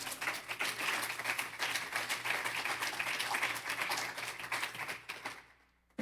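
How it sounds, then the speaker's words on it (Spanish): A church congregation applauds during a sermon, a full, steady round of many hands clapping with a faint hum beneath, continuing evenly before dropping away abruptly near the end. "Denle un aplauso al Rey, iglesia."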